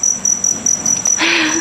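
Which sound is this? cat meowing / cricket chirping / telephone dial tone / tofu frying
cricket chirping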